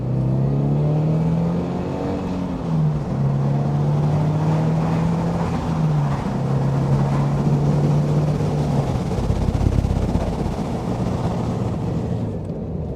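A Subaru BRZ/GR86 fitted with an HKS Hi-Power Spec L2 exhaust accelerates hard in second gear, its engine note rising steadily with a brief dip at each step, loud and close, then settling into a rougher drone.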